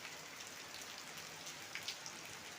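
Heavy rain falls steadily for a couple of hours in a rural setting, a soft, even hiss of drops with a few slightly louder patters standing out.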